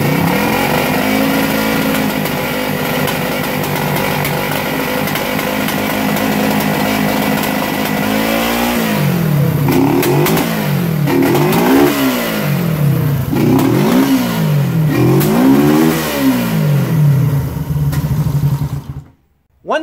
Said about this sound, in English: it's backfiring, it's popping, and it's making a backfiring noise through the exhaust.